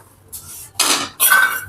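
Sugar being stirred into hot ghee in a pot for churma ladoo, giving a few short scraping, clinking strokes of a spoon against metal.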